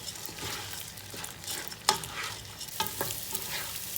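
Rice for chicken fatteh is stirred and fried in a pot, close scraping strokes of the spoon repeating over a soft continuous sizzle, with no one speaking.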